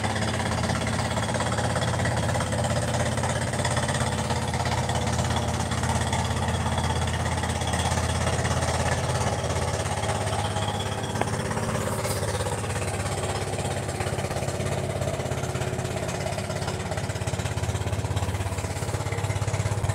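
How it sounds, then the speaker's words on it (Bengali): A steady, low diesel trawler engine drones throughout on the Turag River, carrying a load of soil, a constant rumbling chug without pauses, moderately close and fairly loud. "একটা ট্রলার যাচ্ছে মাটি নিয়ে"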